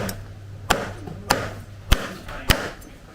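A knife chops through air-fried crispy pork on a cutting board with four sharp, evenly spaced thwacks about half a second apart, close and loud over a low background hum.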